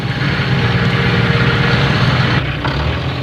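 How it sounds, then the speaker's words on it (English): A tractor fitted with a bulldozer blade comes up a road, its engine a powerful, continuous low rumble that holds steady and loud, dipping briefly near the end. "he heard a powerful engine coming up the road on the"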